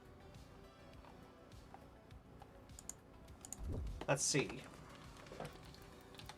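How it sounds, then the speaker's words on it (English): Computer keyboard typing, light and clicky, in short bursts under a man's speech at a desk. "start typing here"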